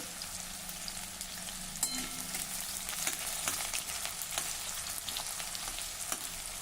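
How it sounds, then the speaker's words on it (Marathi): Chopped onion sautéing in oil over crackling cumin and mustard seeds, a steady close-up frying hiss with faint scrapes of stirring, no talking. "दोन मिनटासाठी आता हा कांदा आपण जरा परतून घेऊ"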